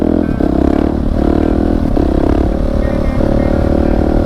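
A Husqvarna 701 motorcycle runs loud and steady while being ridden, its engine drone holding nearly constant with slight pitch dips, under heavy wind rush and rattle.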